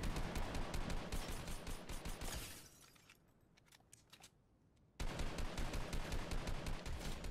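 Rapid automatic gunfire in Fortnite, loud dense bursts that fade briefly to quieter distant shots before cutting back in to sustained close firing.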